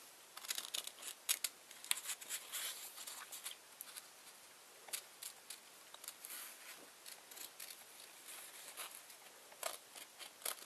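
Scissors snipping paper to cut small bat ears for a cardboard tube craft, a quick run of close, crisp cuts and rustles over a quiet background.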